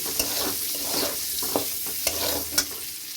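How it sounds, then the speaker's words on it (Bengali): An egg fries with turmeric and salt in a pan, giving a steady close sizzle with a few sharp scraping stirs spaced through it. No one speaks. "এইবার আমি ডিমটা ভাজতে দিয়েছি একটু হলুদ আর নুন দিয়ে"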